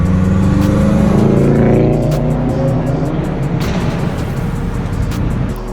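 A 2009 Honda Fit with a 5-speed manual gearbox revs hard up close, its engine note climbing and holding loud and throaty for several seconds.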